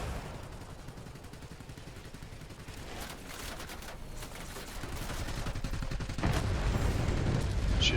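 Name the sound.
anti-aircraft gunfire in video game World of Warplanes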